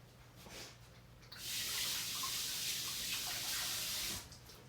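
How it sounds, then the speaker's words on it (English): Tap water running into a sink while egg-covered hands are washed, a steady hissing splash that starts abruptly, holds for a few seconds and then cuts off, close by and alone. "Washing their hands because now they're covered in egg water."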